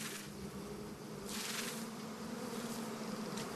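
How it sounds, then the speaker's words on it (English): Giant honey bees swarm at a cliff nest, a dense continuous buzzing drone filling the air without pause. "The bees are the biggest in the world and among the most dangerous."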